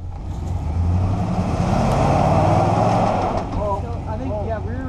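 A car with front drive revs hard while its rear right wheel spins down in a hole, a loud sustained engine roar that rises and then eases, with people talking over it.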